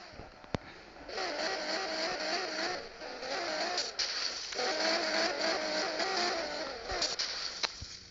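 Off-road driving in the Real Car Parking video game, a car engine revving in repeated surges as the wheels spin for grip, with sharp clicks between bursts and no talking.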